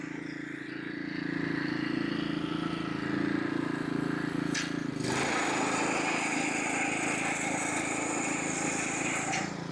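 A small lawn mower engine runs steadily and loudly throughout, with a sharp change in tone midway as it keeps droning without pause.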